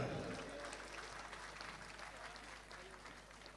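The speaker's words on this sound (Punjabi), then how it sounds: "ਇੱਕ ਵਾਰੀ ਪੁਜਾਰੇ ਲਈ ਤਾੜੀਆਂ ਵਜਾ ਦਿਓ ਜਰਾ" Audience applause at a live stage show in Ludhiana, a dense wash of many hands clapping steadily, loudest at the start and then holding at an even level throughout.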